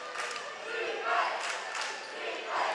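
A basketball crowd chants in a gym during a district championship boys' game, a broad, loud, sustained roar of many voices that swells in waves.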